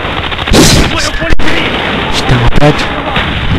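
Loud bursts of gunfire and blasts in the video game Call of Duty: Black Ops, with shots and explosive pops mixed into dense, chaotic game audio.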